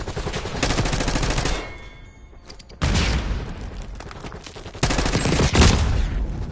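Sentry turret gunfire in Call of Duty Black Ops 6, loud sustained automatic bursts in several long stretches with brief lulls between, dense and close with booming impacts.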